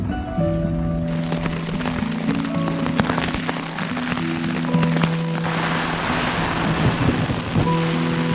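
Heavy mountain rain during a thunderstorm: a dense, loud wash of falling water with scattered sharp cracks and low rumbling, plus a few sustained tonal hums layered underneath, continuing without a break.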